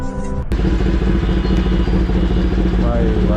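A Honda CBR or Kawasaki ZX-10R superbike idles nearby in a busy street market, a loud steady throbbing engine rumble that continues without a break after a brief sharp onset.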